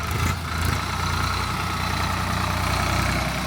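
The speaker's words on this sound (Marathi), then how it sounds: "बघा ट्रॅक्टर चालवतात." A tractor engine idling steadily outdoors on a village farm, a continuous low rumble that holds even for several seconds with no talking.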